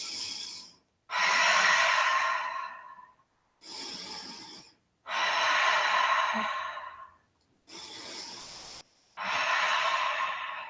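Slow, deep breathing held through a yoga chair pose: long audible breaths, about five of them, close and steady with brief pauses between, and no talking.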